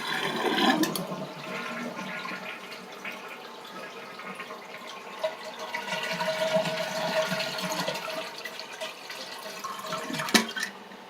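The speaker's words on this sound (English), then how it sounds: "I'm going to pull up the plunger, let the water out." Water rushes and gurgles as a toilet tank drains after the plunger is pulled up, a loud burst at the start then steady flowing and trickling, with no talking.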